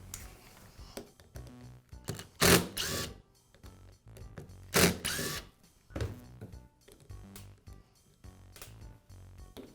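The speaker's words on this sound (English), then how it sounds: "Now remove the cord clamp." Cord clamp being unfastened from a Makita grinder: close, dry mechanical clicks and rattles with two louder scraping bursts, no talking.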